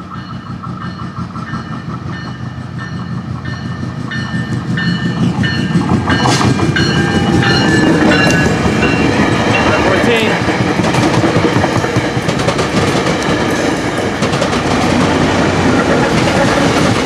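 A northbound Florida East Coast freight train passes on the main line in Hialeah, a loud, steady rumble with rattling, clattering cars that swells over the first few seconds and then holds close. Faint voices may be present.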